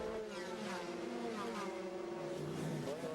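Light Porsche race cars of the 2003 American Le Mans Series at Miami roar past on track, a faint, distant engine whine with shifting pitch under broadcast commentary.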